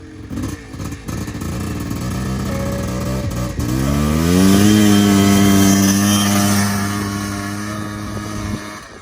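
A 1990s Honda Pilot FL400 off-road buggy engine idles roughly, then revs hard and rises in pitch, holding a loud, close drone before easing slightly.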